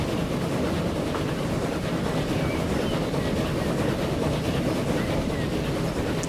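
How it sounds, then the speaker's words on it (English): Rail carriages rumbling along the track in Transport Fever 2, heard from a train passing underneath, a loud continuous rolling roar with faint rhythmic clatter that holds steady throughout. "there's a train underneath"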